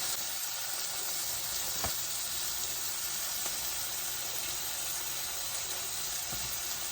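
Mixed vegetables sautéing with a pinch of salt in a pan: a steady, even sizzle and hiss throughout, fairly quiet, with a couple of faint clicks and no talking.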